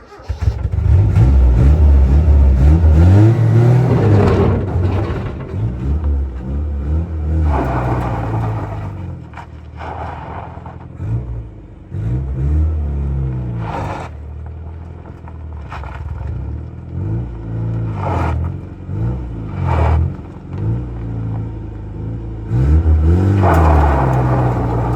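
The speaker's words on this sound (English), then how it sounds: "so I guess I'm driving it off." A 1981 Dodge Challenger engine revs up loudly and close as the car pulls away, then settles into lower, uneven revving and surging throttle blips, with occasional talking mixed in.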